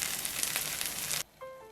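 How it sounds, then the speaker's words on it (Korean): Tofu topped with mozzarella cheese sizzling in a pan over low heat, a loud close hiss of frying for about a second before it cuts off abruptly, leaving a faint quiet tone. "지글거리는 소리만으로도 기대하게 돼요."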